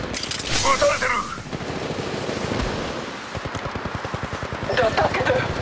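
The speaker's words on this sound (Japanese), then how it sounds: "撃たれてる。" Rapid automatic gunfire in the mobile shooter Apex Legends Mobile, a dense, regular burst of shots that runs for several seconds, with in-game voice lines heard over it.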